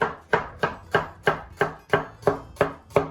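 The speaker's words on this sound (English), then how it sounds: "So start chopping." Steady knife chopping celery on a cutting board, nine crisp evenly spaced chops in a regular rhythm, close and clear with no talking.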